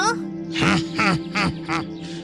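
A ghostly cartoon duck lets out a run of nasal, voiced quacks, about five close, loud calls in an uneven rhythm, sounding like a voice imitating a duck.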